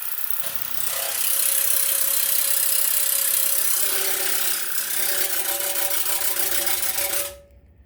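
A water flosser sprays into a sink in its fast pulse mode with a rapid, buzzing pulse, steady and loud for several seconds before cutting off abruptly.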